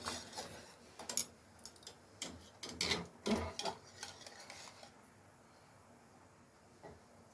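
Chinagrass pudding being spooned and scraped into a ghee-greased bowl: quiet, close clinks and taps of a utensil against the bowl, clustered in the first five seconds and then thinning to a single tap near the end.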